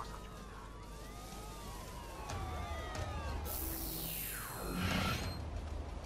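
In the video game InFamous First Light, police sirens wail with sweeping, overlapping tones over a loud rumbling city backdrop, one siren rising sharply and passing close near the end.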